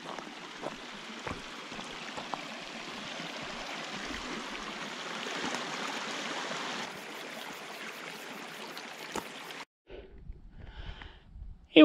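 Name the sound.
small stream flowing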